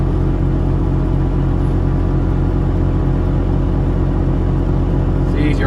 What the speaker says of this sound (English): The skidder I'm running right now